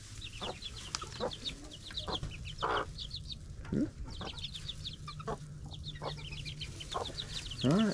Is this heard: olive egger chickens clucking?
yes